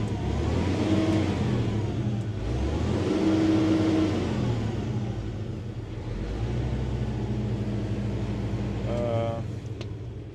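A T-150K tractor engine rising and falling in pitch as it is revved with a hand throttle, with a person talking over it and a brief clatter near the end.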